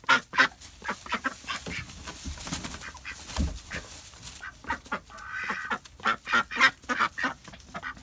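Backyard ducks and geese honk and quack in a rapid, overlapping chorus while being herded into their coop at bedtime, the calls close and irregular over eight seconds with rustling in fresh straw.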